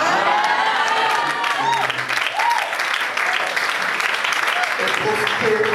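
Audience at a church conference applauding steadily and loudly throughout, with cheers and shouts mixed into the clapping and a voice calling out over it.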